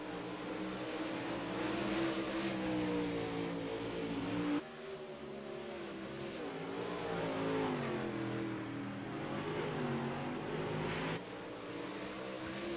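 Dirt track race cars roar around the oval on the final laps, with loud, sustained engines rising and falling in pitch as they pass close by, heard continuously without talk.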